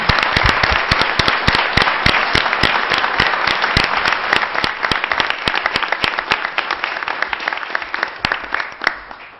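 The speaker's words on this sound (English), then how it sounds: "Nice round of applause for our new city council" Sustained, loud applause at a city inauguration ceremony greets the new city council, a thick roar of many hands with crisp individual claps standing out throughout.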